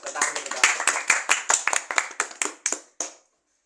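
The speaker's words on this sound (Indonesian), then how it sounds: "tepuk tangan dulu dong" A small group clapping hands in a podcast studio, a run of sharp separate claps with a loose irregular rhythm over about three seconds before it stops; a voice murmurs briefly underneath.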